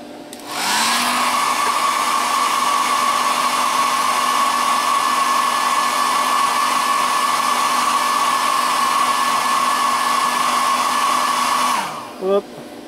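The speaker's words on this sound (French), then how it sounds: "Je vais peut-être mettre un petit coup de sèche-cheveux pour aller un peu plus vite." A hair dryer blows steadily at close range with a constant high whir, switching on with a rising pitch and cutting off after about eleven seconds, with no voices.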